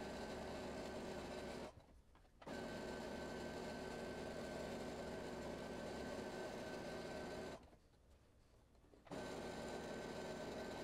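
A sewing machine stitches a t-shirt seam along a chalk line, a faint steady mechanical whir that stops briefly twice and then resumes.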